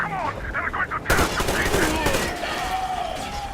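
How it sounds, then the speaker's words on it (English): Gunfire from a firefight in the video game Metro Exodus on Ranger Hardcore mode, loud bursts of rapid fusillade shots starting suddenly partway in and continuing in a dense volley. "Fire at will!"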